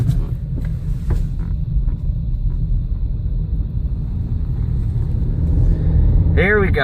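A car drives back through sand spread across the travel lane of a road on South Padre Island, giving a steady low rumble and road hiss that grows slightly louder toward the end, with a brief higher whine near the close.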